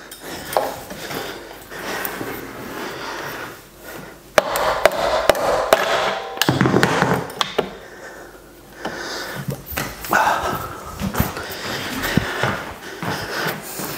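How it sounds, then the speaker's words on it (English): A hammer strikes repeatedly while someone works on a Cannondale bicycle being set up for a Wahoo KickR trainer, sharp close metallic knocks in irregular bursts with pauses between groups. "Certainly getting good use out of the new hammer."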